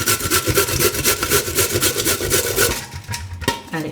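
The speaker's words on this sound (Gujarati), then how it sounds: "તો એને છીણી લેવું આમાં" Peeled carrot being grated by hand on a grater, a steady rhythmic rasping scrape of repeated strokes, close and loud, slowing and stopping near the end.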